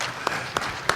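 An audience applauds at the closing round-table of a 2010 conference, giving a brief, dense burst of clapping with a few sharper accents near the end.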